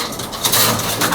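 Pigeons cooing softly and rustling while being handled, low murmuring calls mixed with close fluttering and shuffling over a brief moment.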